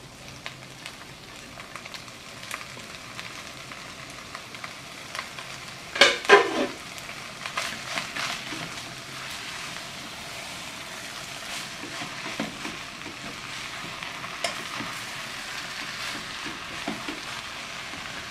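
Chopped garlic, onion and tomato fry alongside pork in a pan, a soft low sizzle with a brief burst of clattering stirring near the middle and lighter scraping afterward, no talking.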